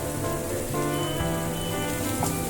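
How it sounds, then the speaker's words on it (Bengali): Finely sliced medium onion frying in oil in a pan for an egg tadka, giving a steady, dense crackling sizzle that stays loud and continuous with no talking. "পেঁয়াজটা হালকা করে একটু ভেজে নেবো"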